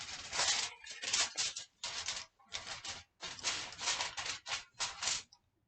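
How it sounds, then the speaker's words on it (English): Scissors snipping through tin foil and paper, a run of short crisp cuts in quick bursts with brief pauses between, close and clear with no talking. "use your scissors to just go ahead and cut away"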